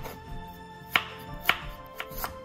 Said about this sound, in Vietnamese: Rồi, xong rồi chúng ta xắt sợi ra nha các bạn.